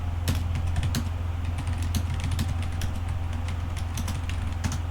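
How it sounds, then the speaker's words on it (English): Rapid clicking of computer keyboard keys, close and steady, over a constant low electrical hum, with no voices. "So let's type that in."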